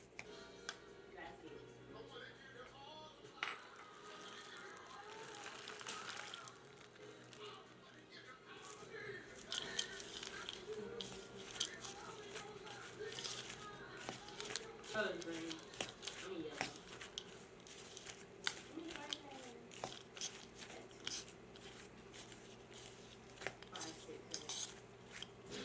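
A pecan crumble topping for a sweet potato casserole being mixed in a bowl, with quiet, irregular clinks and scrapes of a utensil against the bowl continuing throughout alongside soft background noise.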